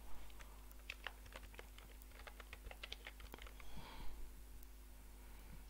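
Computer keyboard keys tapped in quick, uneven bursts of light clicks while entering a search, close and quiet over a low steady hum.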